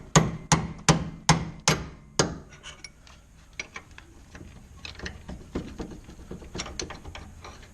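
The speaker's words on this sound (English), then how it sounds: "Now I'll just get a punch on top of the center of the bolt head." A hammer drives a punch against a steering bolt head on a first-generation Nissan Xterra, with five loud, rhythmic metallic strikes up close, followed by softer scattered clinks and knocks.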